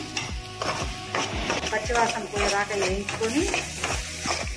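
Curry paste fries and is stirred in a pan, giving a steady sizzle broken by regular scraping strokes of a spoon, close and fairly loud, with no talking.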